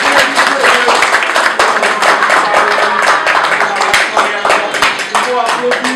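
An audience at a Paris press conference breaks into brisk, uneven clapping, loud and close, with voices talking over the applause the whole time.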